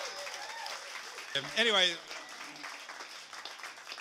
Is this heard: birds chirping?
no